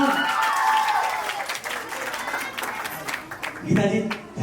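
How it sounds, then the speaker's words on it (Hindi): Children applaud a guest at a Cancer Rose Day event with cancer kids, a few seconds of lively clapping with voices and cheering mixed in, rising and dipping unevenly. "जोरदार तालियां हो जाए बच्चा भाई की तरफ"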